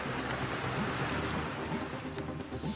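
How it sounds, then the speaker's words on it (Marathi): Heavy midnight rain in Vasai-Virar, a steady, dense roar of downpour that stays loud and constant throughout with no voices. "वसई विरारमध्ये मध्यरात्रीच्या सुमारास जोरदार पाऊस."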